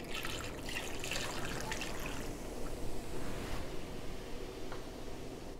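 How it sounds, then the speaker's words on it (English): Beer poured into a slow cooker of chicken curry ingredients and broth, giving a steady soft fizzing, trickling hiss throughout, close and moderately loud with no talking. "That was the effervescence of the beer."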